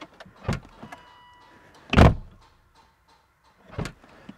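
Car power window with a faulty door module, making short motor whirs and thumps: a brief one, a louder double bounce as it fails to lock, then another short bump, close and isolated.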